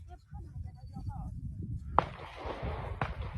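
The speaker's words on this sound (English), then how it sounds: "here is another bout of fireworks." Fireworks pop outdoors near tea fields in spring, one sharp crack followed by a rumbling burst, then another crack, heard at a moderate distance amid quiet background.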